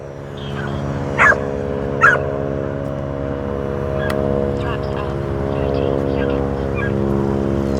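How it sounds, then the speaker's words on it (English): Two sharp dog barks a second apart, fairly distant, over a steady droning engine hum from an E-flite Spitfire Mk XIV model airplane that persists throughout. "That dog must like planes."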